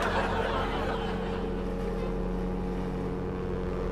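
A ship's engine sound effect hums as a steady low mechanical drone with a constant rumbling tone, played fairly quietly during a comedy stage sketch about a pilot.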